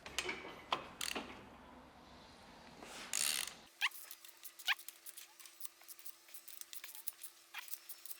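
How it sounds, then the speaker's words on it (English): Ratchet wrench loosening M9 fitting screws on the bed plate of a BMW S65 V8 engine from an E92 M3, giving rapid close clicking and rattling bursts with short pauses between turns. "we need to remove the fitting screws"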